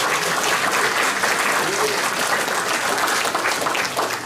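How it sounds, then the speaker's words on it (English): A crowd at a family memorial service breaks into sustained, even applause, loud and continuous, with faint voices mixed in under the clapping. "Can we give it up to them? Can we give them a clap?"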